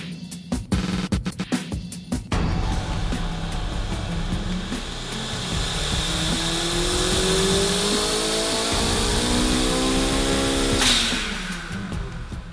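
A car engine revs hard on a dyno, running through a 2.5-inch exhaust resonator, with a loud sustained roar that climbs steadily in pitch and fills the clip after a few rough bursts at the start.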